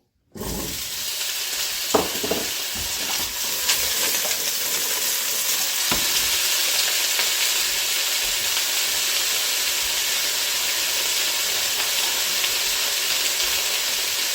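Vegetables sizzle in hot avocado oil in a pan, a loud, steady frying hiss, with a few sharp scrapes and knocks of stirring early on before the sizzling settles into an even roar.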